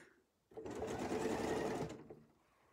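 A sewing machine stitches circles on a quilt piece in one short, close burst of even mechanical whirring lasting under a couple of seconds, with quiet before and after.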